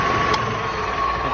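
A table saw or circular saw motor runs steadily at close range, a continuous even hum with a thin high whine, holding level without pause and with no voices.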